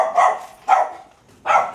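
A dog barks three times in quick, sharp bursts, close and clear with short pauses between.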